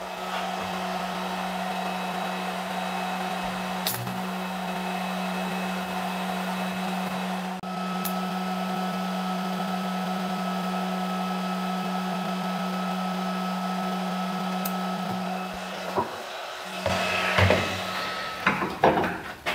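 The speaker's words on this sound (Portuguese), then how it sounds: "como vocês podem ver, ela solda TIG também muito bem" A cheap TIG torch with argon gas welding steel plates at 100 amps gives a long, steady electrical hum and hiss, ending in a few clanks and rustles as the work is handled.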